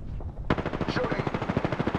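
Rapid automatic gunfire in the battle royale game Apex Legends, a loud, sustained burst of evenly spaced shots that starts abruptly after a brief lead-in of quieter game noise.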